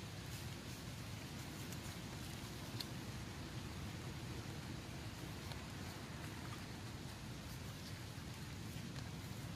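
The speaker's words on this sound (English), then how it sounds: "damn rain is falling in here" Rain falls steadily on a garden, a soft, even hiss of drops with no pauses, faint and constant throughout.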